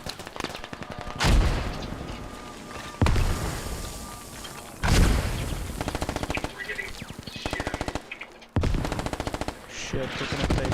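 Bursts of machine gun fire in a video game, several loud, close rapid-fire strings broken by short pauses, with heavy booming hits at the start of some bursts.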